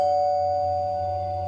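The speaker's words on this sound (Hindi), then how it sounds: "इसके बाद डोरबेल बजती है" A doorbell rings with a single sustained electronic chime tone that holds steady and slowly fades, loud and alone.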